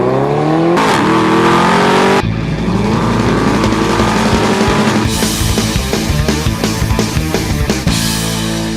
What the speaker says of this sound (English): You got that exhaust note tearing through your ears.